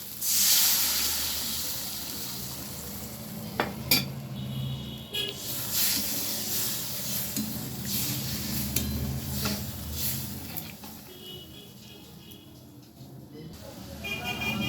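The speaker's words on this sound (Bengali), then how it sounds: "আমি এবারে জল দিয়ে দিচ্ছি" Water poured into a hot pan of spiced masala for a pea kofta curry, giving a steady steamy hiss and sizzle with occasional utensil clinks and a brief sharp clatter, with no voices.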